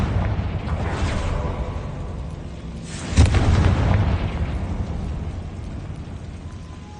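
A Confringo spell blast in Hogwarts Legacy lands as one heavy boom that swells up out of a steady rumbling game background, then trails off in a rolling low tail.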